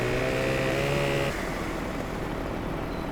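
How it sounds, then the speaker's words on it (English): A virtual chainsaw in the farming game Farming Simulator 15 runs with a steady, droning engine tone that shifts pitch partway through, loud and continuous with no talk. "I got the chainsaw out."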